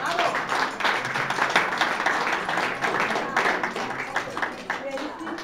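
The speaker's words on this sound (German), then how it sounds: "Euer Applaus." Applause from the audience at the opening of an art exhibition in a Marl art venue, a dense, steady wash of clapping that holds for several seconds with voices mixed in.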